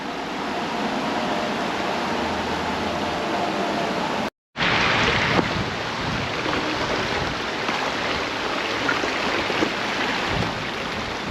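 Steady rushing water of a creek that opens toward a spillway fills the scene as a continuous close broadband wash, briefly cut off midway, with no talking.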